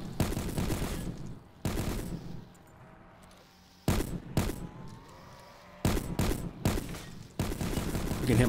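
Bursts of sniper gunfire from a jungle video game sniper challenge, several loud separated volleys with sharp onsets and decaying tails, quiet gaps between them, no talking.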